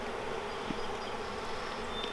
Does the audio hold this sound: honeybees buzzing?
yes